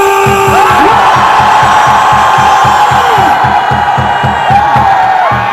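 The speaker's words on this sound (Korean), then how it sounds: "승리를 원한다면 전방을 향해 함성 3초 발사!" A rally crowd at a patriotic prayer gathering outside Dongdaegu Station bellows and cheers loudly and continuously, a dense roar of many voices with rhythmic low pulses underneath and a few whoops rising above.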